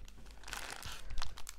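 Plastic bags holding diamond painting stones crinkle and rustle close by, with a few sharper crackles as they are handled.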